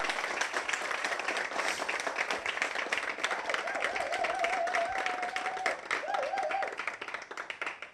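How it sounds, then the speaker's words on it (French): An audience at a neighbourhood talk in the Canadienne quarter claps steadily in a continuous patter of hands, with a faint voice or whistle-like tone rising briefly partway through. "je vous demande donc d'applaudir pour Piti"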